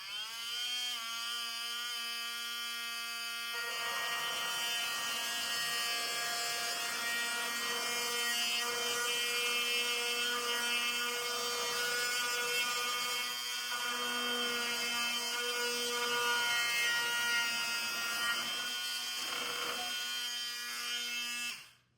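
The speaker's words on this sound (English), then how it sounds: "Use my multi-tool." A multi-tool cuts through a thin wood strip, giving a steady, close, buzzing whine with strong harmonics that holds for about twenty seconds before cutting off; nobody speaks.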